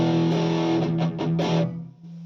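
Electric guitar played through a bypassed stock yellow Boss Super Overdrive pedal, a few sustained chords with quick strummed accents, moderately distorted from the amp alone and fading out at the end.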